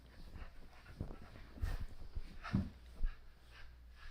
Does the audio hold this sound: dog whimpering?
yes